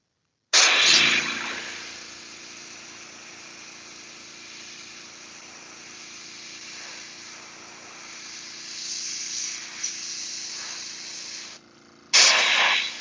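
An airbrush sprays paint with a steady soft hiss, opening with a louder burst of air, running quietly for several seconds and ending with another sharp blast.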